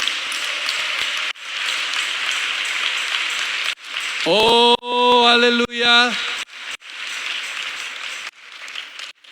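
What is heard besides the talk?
church congregation applause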